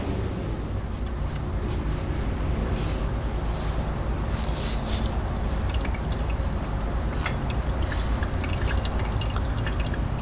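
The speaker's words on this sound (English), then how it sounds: "And there I see the old fluid starting to go out." Old brake fluid drains from a brake line on a Mercedes ML63 during a brake fluid flush, giving a steady, continuous trickling pour with faint drips and bubbling throughout, close by and with no voices.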